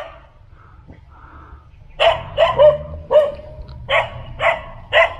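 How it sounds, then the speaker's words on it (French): A dog barks in a run of loud, close barks at an uneven rhythm, preceded by a few quieter yips, at a temple near Pattaya. "Ça aboie, mais c'est pas méchant."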